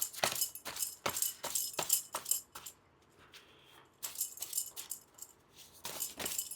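Tarot cards being shuffled by hand, a series of crisp, rapid riffling bursts with a short quiet pause in the middle, close and fairly soft, with no talking.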